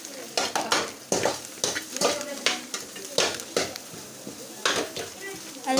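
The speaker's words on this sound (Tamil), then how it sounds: "எப்படி மசாலா போட்டு கிண்டுக." Masala spices stirred in a frying pan, repeated scraping strokes of a spoon against the metal in an uneven rhythm over a soft sizzle, close and fairly loud.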